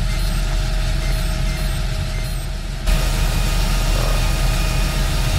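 A Fendt tractor engine in Farming Simulator 2013 rumbles loudly and steadily, shifting in tone partway through as the engine load changes, with no talk over it.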